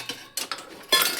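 Metal cooking pots and utensils clink and clatter in a few quick, close knocks as they are put away in a kitchen.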